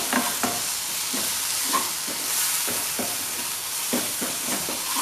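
Chili, coriander and turmeric powders fry in a pan for chicken roast while being stirred, with a steady close sizzle broken by repeated scraping strokes of the spoon, no voices.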